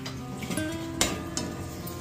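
Rice flour dough for papad steams in a pan over a low gas flame, giving a soft, steady hiss with a few faint clicks and taps, and no voices.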